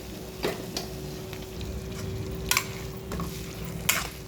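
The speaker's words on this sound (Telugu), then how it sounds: "ఇది వేగేలోపు ఉల్లిపాయ వేగిపోతుందండి. ఇలా వేగాక ఈ సొరచేప కిందలో వేసేసుకోవాలి." Pieces of shark frying in a pan with onions, a continuous low sizzle with a few sharp clicks and scrapes of a utensil against the pan.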